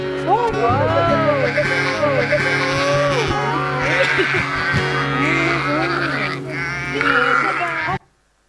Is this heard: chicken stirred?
no